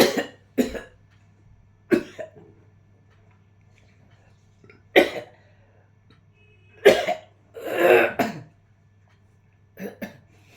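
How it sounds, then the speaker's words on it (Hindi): A person with a sore throat coughs repeatedly in quiet surroundings, with short sharp bursts arriving irregularly, some in pairs and one longer rasping cough, over a faint steady hum. "मेरा गला खराब है, तो इस करके खांसी आ रही है"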